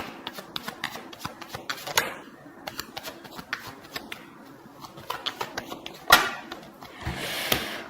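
Tarot cards riffle and shuffle in quick, irregular bursts of papery slaps and flicks, close and moderately loud, with a few sharper snaps and a brief flurry near the end.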